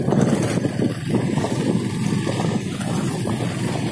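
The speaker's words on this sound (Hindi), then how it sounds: "और मैं बाइक थर्ड नंबर पे चला रहा हूँ" A motorbike ridden in third gear over a rough, badly broken road, heard as a loud continuous engine rumble mixed with heavy wind buffeting on the microphone, with no talking.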